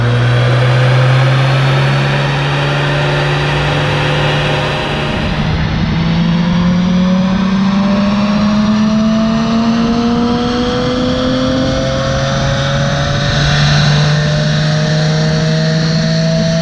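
A BMW 335i on dyno rollers revs hard and steadily climbs in pitch, a loud, close, continuous engine roar that eases briefly midway before pulling up again.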